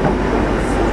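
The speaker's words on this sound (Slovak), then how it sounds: "Vezieme sa rýchlikom Sitno." Express train Sitno running on the rail line between Zvolen and Košice, a steady close rumble of wagons rolling on track, loud and continuous with no break.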